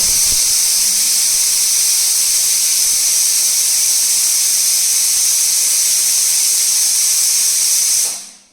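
A pressure cooker whistle blasts steam in one long, loud, steady hiss that lasts several seconds before cutting off abruptly, close by in a kitchen.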